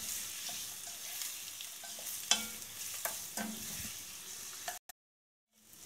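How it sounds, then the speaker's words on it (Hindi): Onions sautéing in hot oil for a mutton gravy give a soft, steady sizzle with several distinct stirring scrapes and clinks, fairly quiet and close, ending in a brief cut to silence. "अब हम इसमें प्याज डालेंगे और इसे बस लाइट ब्राउन कलर का, लाइट पिंक कलर करेंगे इसका, और इसको सौते करके निकाल लेंगे"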